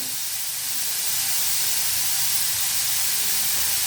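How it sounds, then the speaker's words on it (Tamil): Onions sautéing over a high flame for Tamil-style egg podimas, giving a steady, even sizzle and steamy hiss that holds close and loud throughout with no talking. "இந்த வெங்காயம் கொஞ்சம் வதங்கட்டும். ஹை ஃப்ளேம்லேயே வச்சுப்போம்."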